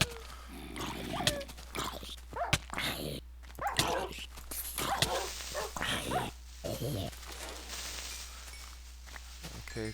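Dogs bark and yelp in a Minecraft adventure map, mixed with hoof-like clopping and game noises, short repeated bursts over a steady background hum with a player talking throughout.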